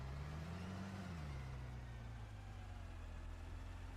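Garbage truck in a Roblox game: a steady, low diesel engine drone with a pitch that rises briefly and then settles into an even idle, moderately close and alone without speech.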